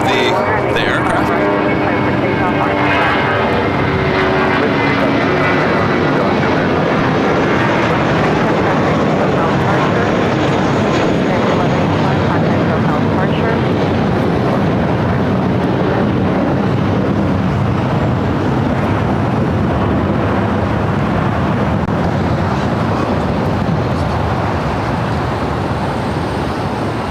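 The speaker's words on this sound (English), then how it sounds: "Flight heading to Cabo, United Airlines Flight 1185. It's an A320." A United Airlines Airbus A320 jet bound for Cabo roars at LAX, a loud, sustained, broad engine rumble lasting the whole stretch, with voices talking over it at times.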